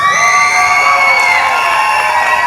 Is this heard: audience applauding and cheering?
yes